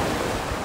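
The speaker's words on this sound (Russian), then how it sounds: "И вот мы дошли до моря." Sea waves wash onto a Bulgarian beach on a warm day, a short, steady rush of surf with some wind noise and no voices.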